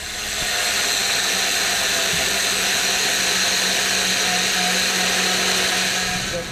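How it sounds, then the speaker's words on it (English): A power tool cuts a light bar mounting bracket during a Toyota 4Runner light bar install, giving a steady, loud, high-pitched whine that holds continuously for several seconds. "So we're just gonna make a cut here so it can fit better."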